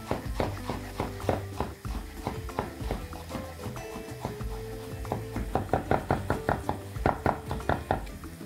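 A knife chopping vegetables on a cutting board, with quick, steady strikes in a brisk rhythm, heard close over soft background music.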